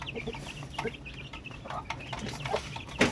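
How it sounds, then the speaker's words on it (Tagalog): Shamo and Aseel chickens cluck in short, irregular bursts close by, with a sharper squawk near the end over a busy backyard background. "Babanatan natin ng breeding si yung hen na binigay sa atin ni Boss Brando, itong black."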